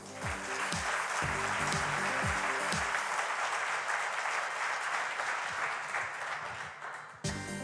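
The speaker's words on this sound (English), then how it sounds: "Please give a round of applause, a really warm one from North Dakota, to Brittany Ash." A conference audience at a cybersecurity event applauds to welcome a speaker. Steady, full applause runs for about seven seconds after a few louder opening claps, then cuts off with a sharp knock at the end.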